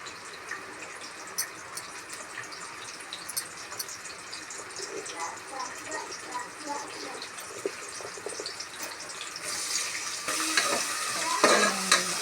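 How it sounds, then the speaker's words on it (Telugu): Thinly sliced onions sizzle steadily in hot oil, with stirring and spoon scrapes, and the frying grows busier toward the end. "ఆయిల్ వేడయ్యాక మేము ఇప్పుడు సన్నగా కట్ చేసుకున్న ఆనియన్స్ వేసేసుకుందాం."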